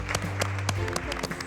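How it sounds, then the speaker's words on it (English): Contestants applaud at the start of a miniature-building competition, a short burst of close clapping over a steady low background hum, with voices mixed in. "Hands up and give yourselves a round of applause."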